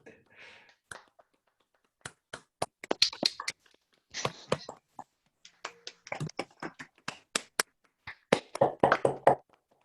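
Scattered, irregular claps from several participants on an unmuted video call, sparse at first and then thickening into uneven bursts of hand claps, thin and slightly compressed, with brief gaps between.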